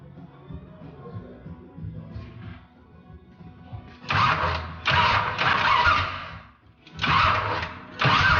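Dirt modified race car engine with a vacuum leak, running close by in uneven loud bursts of revving separated by brief drops, with quieter idling before the revs build.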